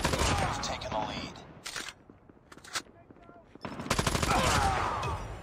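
M16 fire in Call of Duty Mobile rattles in dense rapid bursts, one long volley, a pause with scattered shots, then another heavy stretch of gunfire, with players talking underneath.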